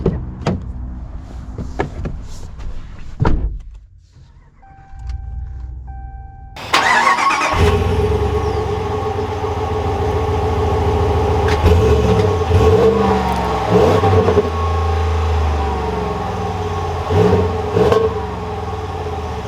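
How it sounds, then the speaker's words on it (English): A 2021 Ram 1500 Big Horn Night Edition pickup: after a brief quiet, with a couple of clicks and a door sound, the engine starts with a loud burst and then idles and revs with a steady, close rumble as it drives off. "let's take this Bighorn out and see how it drives"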